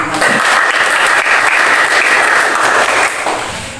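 A high school classroom in Indonesia breaks into loud, close applause from students, a thick steady rush of many hands clapping that holds evenly for several seconds before easing off slightly at the end.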